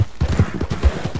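A horse gallops in the Red Dead Redemption 2 video game, with rapid, evenly paced hoofbeats thudding close and loud in a steady running rhythm.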